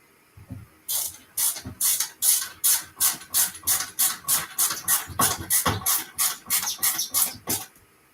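A screwdriver drives screws into a 19-inch arcade monitor, making a close, rhythmic series of about twenty quick ratcheting, hissy strokes at a steady pace, with a few low knocks between them.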